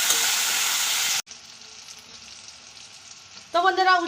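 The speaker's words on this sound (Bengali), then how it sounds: "লবণ আর হলুদটা দিয়েছি, এবার একটু নেড়ে দিচ্ছি।" Bitter gourd and potato fry in a pan with salt and turmeric: a loud hissing sizzle breaks off abruptly into quieter frying and stirring, then a brief louder tonal sound at the end.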